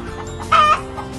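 A chicken with a cold gives a short, loud cluck-like call over a steady low background hum, rising briefly and then fading.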